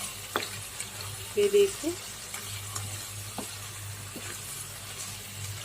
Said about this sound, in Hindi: ये देखिए, चिकन फ्राई पक के रेडी हो गया है।